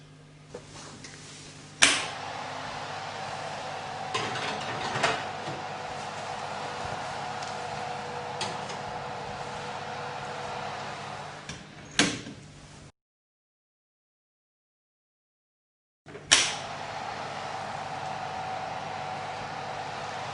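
Soda bread goes back into a kitchen oven. Sharp clunks and a hard door closing sound over a steady fan hum, then a silent gap, then another thump as the noise resumes.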